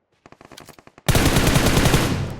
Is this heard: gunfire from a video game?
yes